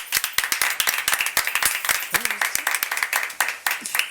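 Scattered applause from a small crowd in a restaurant setting, with sharp individual claps ringing out unevenly near the listener, while voices chatter and someone briefly calls out over the clapping.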